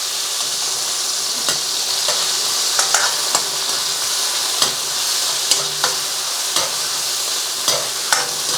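Chicken sizzles steadily in a hot pan while a utensil scrapes and stir-fries it in repeated clacks, close by and continuous with no talking.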